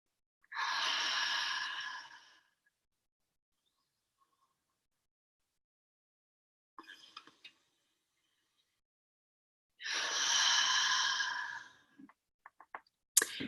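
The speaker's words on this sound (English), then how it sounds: "So then I just simply inhale." Someone takes a deep inhalation of essential oil from cupped hands. Two long, close, drawn breaths are separated by quiet, with a few small clicks and rustles in between.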